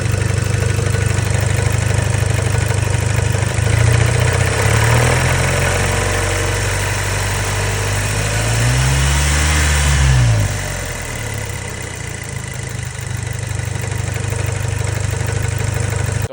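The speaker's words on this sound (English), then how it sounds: "I started to notice some knocking or some not really friendly sounds coming from the engine bay" An Audi B7 A4 engine idles with a steady low drone and irregular knocking from the engine bay, with a couple of brief revs rising and falling in the middle, heard up close without speech.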